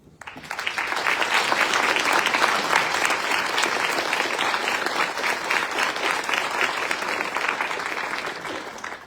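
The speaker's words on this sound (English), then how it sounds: "I wish everybody just give a round of applause" A room full of people breaks into sustained, dense applause that swells within the first second and holds steady for several seconds, with no talk over it.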